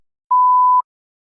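A single clean electronic beep from a TOEFL speaking practice test, lasting about half a second, alone in silence.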